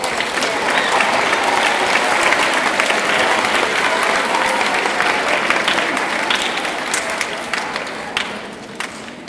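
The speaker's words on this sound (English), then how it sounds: "Please give them a round of applause." A large crowd at a school awards ceremony applauds, sustained dense clapping that holds steady for several seconds before tapering slightly at the end.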